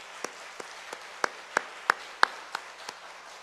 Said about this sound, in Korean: 우리 박수로 한번 격려해 주시죠.